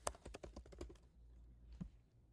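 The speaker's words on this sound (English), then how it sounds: "I'm like clacking on the keyboard." Quick clacking keystrokes on a computer keyboard, a rapid burst of close taps at the start, then a pause and one last isolated key press, quiet with no voice.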